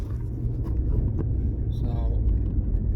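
Steady low car rumble from inside a moving vehicle, a continuous droning road and engine noise with faint rattles, loud and close throughout.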